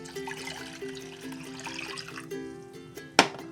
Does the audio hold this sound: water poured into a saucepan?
yes